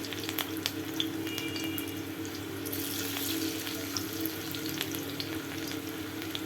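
Thinly sliced garlic cloves fry in hot oil in a pan, giving a steady, even sizzle and hiss with a few faint crackles. No one speaks.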